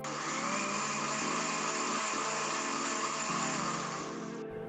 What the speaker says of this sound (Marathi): आता हे सर्व एकत्र करून मिक्सरला बारीक वाटून घ्यायचं आहे।